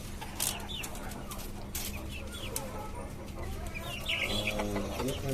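Tiger chickens in cages on a rooftop farm cluck softly and intermittently nearby, with a few brief higher squawks against a quiet outdoor background.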